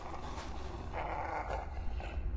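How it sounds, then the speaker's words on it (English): Dog-like creatures growl and snarl in the cemetery area of the horror game Silent Hill Homecoming, a dense, continuous rumbling layer of low growls heard from all around, without speech. "you'll probably notice that there's a bunch of barking and growling and snarling coming from every direction"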